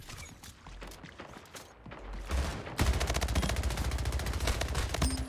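Rapid automatic gunfire in the video game Splitgate, scattered shots at first, then a loud sustained burst of dense rapid fire over the final half, no talking.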